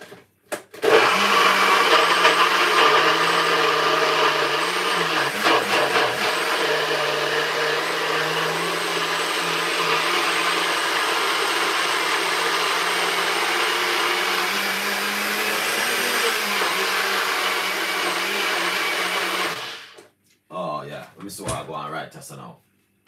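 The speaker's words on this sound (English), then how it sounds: "I just blend it, so I'm gonna blend it a little bit more, all right, just to make sure it blend out properly" A kitchen blender whirs loudly and steadily for about twenty seconds while blending fruit for a weight-loss juice, then cuts off and is followed by a few brief clatters.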